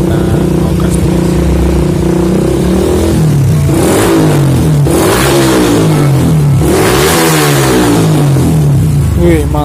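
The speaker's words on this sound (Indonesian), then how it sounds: "Kita nyalakan mesinnya." A modified Yamaha New Vixion motorcycle engine fires up and revs hard in several loud, rising bursts, settling between throttle blips into a steady mid-pitched idle, recorded up close with some talk underneath.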